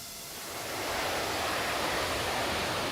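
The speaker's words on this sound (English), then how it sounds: "Really nice reverser sounds." Thrust reversers on a Toliss A330-900neo airliner landing on a wet runway in X-Plane 12, a broad steady roar swelling up within the first second and holding loud and constant.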